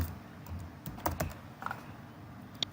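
Keystrokes on a computer keyboard while entering a base plate label in drafting software: a few scattered clicks in short irregular bursts, fairly faint and close against a quiet room, with no talking.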